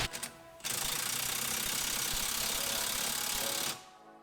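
A ratchet wrench clicks in a fast, continuous run for about three seconds as it tightens a wheel bearing press-in tool, close and crisp, with a few separate clicks just before.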